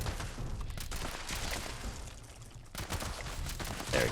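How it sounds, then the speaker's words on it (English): Continuous gunfire in Fallout 76, a dense run of game shots firing in quick succession at a steady loud level, with brief gaps and no talking. "See, I'm just shooting at them kind of thing."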